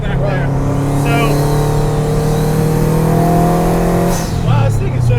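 A Factory Five 818C kit car making 400 horsepower accelerates hard with a loud, steadily rising engine note, a brief gear change near the end, and a person talking over it.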